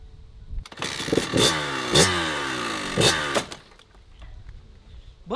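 Kawasaki KX85 dirt bike with a freshly adjusted clutch, its small two-stroke engine revving in several sharp blips and rising whines, loud and close, settling to a lower idle between bursts.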